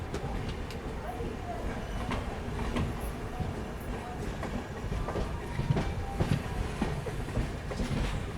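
A passenger train arriving at a platform rumbles and clatters steadily, with faint rhythmic clicking of wheels on track and a busy crowd murmuring, all at moderate loudness.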